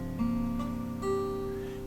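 A guitar bar chord strummed twice, ringing with sustained harmonic tones, clear and close with no talking.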